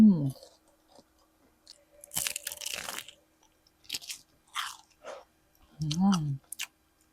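Crunchy Jollibee fried food is bitten and chewed close to the mic in irregular crisp crunches, with brief murmured voice sounds at the start and near the end.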